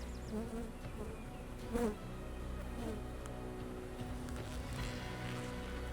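Honeybees buzz steadily at an open hive during a spring inspection, a dense, close continuous droning hum with a few louder passes near the ear.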